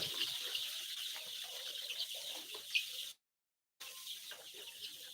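Chicks in a brooder keep up a continuous chorus of high chirping and peeping, busy and fairly close, with a brief dropout of silence partway through.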